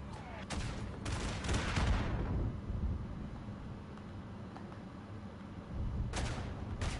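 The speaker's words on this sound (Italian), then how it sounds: "Hanno bombardato pure i nemici." Cannon bombardment on the Italian front in the World War I video game Isonzo, with heavy booming blasts and rumbling fire up close, a dense roar early on easing into a lower rumble before another burst of shots at the end.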